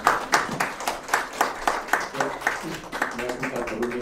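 An audience at a pet startup demo day applauds as a presenter is welcomed to the stage; a few seconds of rhythmic, fairly close clapping that thins toward the end as a voice begins.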